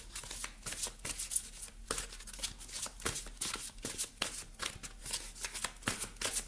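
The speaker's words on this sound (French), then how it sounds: "On va aller chercher une carte des ailes de la sagesse." Oracle cards for a tarot-style reading are shuffled by hand in quick, crisp riffles and flicks that repeat steadily, close and fairly quiet, with no talking.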